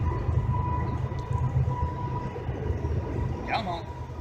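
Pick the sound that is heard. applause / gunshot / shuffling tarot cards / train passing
train passing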